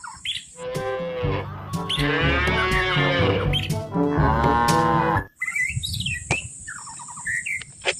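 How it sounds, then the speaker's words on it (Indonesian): A toy cow sounds a loud, drawn-out moo, breaking into a second, shorter moo, then a faint squeaky bird-like chirping follows. "Ini kita dapat sapi."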